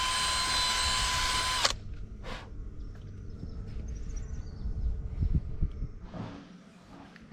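A power drill runs steadily and loudly for under two seconds, driving screws into the chassis of an ex-army Unimog; afterwards comes quieter clatter and handling noise from the workshop.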